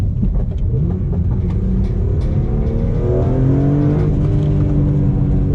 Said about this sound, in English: that engine is just so silky smooth